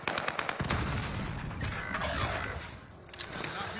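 Rapid gunfire and mechanical clatter from an online shooter game tournament, dense bursts of shots crackling close and loud in quick succession, with no speech over it.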